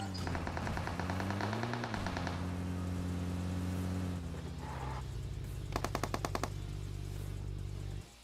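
Automatic weapons fire in rapid bursts in the mobile battle royale game PUBG Mobile on the Erangel map, sharp rattling volleys over a steady low vehicle engine drone, with a second distinct burst later.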